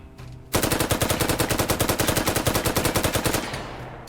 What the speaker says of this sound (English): they made it into the M16A3,